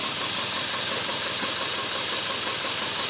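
A 4-cylinder motor misfiring and running on only 2 cylinders, its steady rough engine drone close and continuous with a hissy, knocking edge and no talk.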